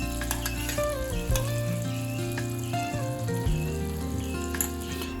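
Amul butter and sunflower oil heat in a kadai with a steady low sizzle and frying crackle, plus occasional stirring and clinking, continuous throughout with no talk.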